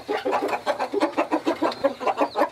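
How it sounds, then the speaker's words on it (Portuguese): Large rooster on a rural Brazilian farm clucking close by in a steady run of repeated short, throaty calls, about a dozen in quick succession, with no talk over them. "Olha só que galo grande."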